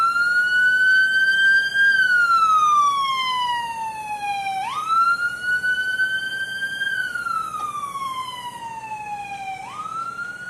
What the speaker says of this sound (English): Oh, We got a double siren. this is the double siren.